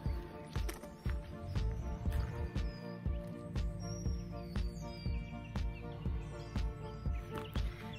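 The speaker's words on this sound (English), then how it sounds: "I hope you guys can hear the birds. They are just glorious. They are going crazy right now." Lively outdoor birdsong fills the air, with many repeated chirps and whistled calls from several birds overlapping at close to middle distance, busy and continuous over a quieter background.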